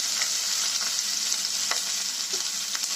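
Onion and garlic fry in a pan with a steady, close bright sizzle and faint scraping stir strokes, with no talking over it.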